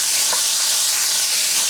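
Vegetables fry in bacon grease and sausage fat with a steady, close, bright sizzle and hiss, continuous and even with no voices.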